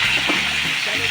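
Pointed gourd frying in a pan with salt and turmeric gives a steady close sizzle, with a brief stirring scrape partway through.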